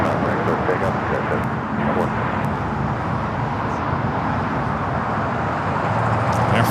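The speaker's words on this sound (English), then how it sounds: "We have Emirates all lined up and ready to go on 24 left for takeoff." An Emirates airliner takes off from runway 24 left at LAX, a broad, steady jet roar holding loud and continuous throughout with a faint distant hiss above it.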